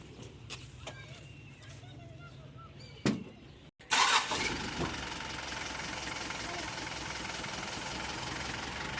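A Mazda 3500 truck engine cranks and catches after a few sharp clicks and a brief silence, then settles into a steady, rumbling idle close by, with voices talking over the start.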